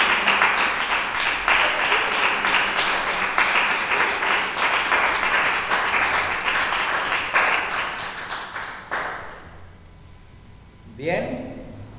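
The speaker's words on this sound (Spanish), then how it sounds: "Dele un aplauso al bendito" A congregation at a Messianic church service breaks into loud, dense applause that holds for around nine seconds, then fades to quiet with a brief voice at the end.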